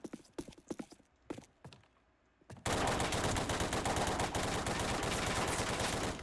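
Guns firing in the Roblox game, first a few scattered single shots separated by quiet gaps, then a sustained burst of rapid automatic fire that continues loud and dense to the end.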